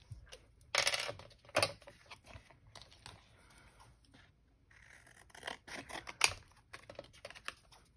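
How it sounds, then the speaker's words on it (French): Scissors cutting out paper shapes for a bullet journal, soft close snips and rustles in a few separate bursts with quiet handling in between, and no talking. "Je pense que ça va se découper assez facilement."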